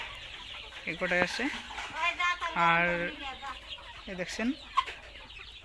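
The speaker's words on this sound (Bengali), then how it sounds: "সোনালী মুরগি আছে" Sonali chickens on a farm, a flock of around 45 birds about 76 days old, cluck and call in repeated bursts at close range, with someone talking over them throughout.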